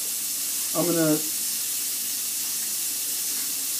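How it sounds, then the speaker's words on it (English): Onions sautéing in a pan produce a steady, even hiss of frying with no clear breaks. Near the start, a brief voiced sound rises above it. "now I'm going to add the onions. So I want to saute these"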